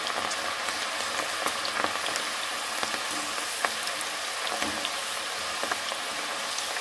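Lentils for dal namkeen fry in hot oil with a steady, dense sizzle and scattered small pops, heard up close throughout with no voices.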